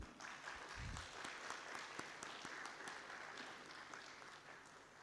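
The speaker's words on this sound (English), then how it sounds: "A big round of applause for them." An audience at a law conclave gives a round of applause for the organizing team members, many hands clapping in a steady patter that stays faint and distant before easing off.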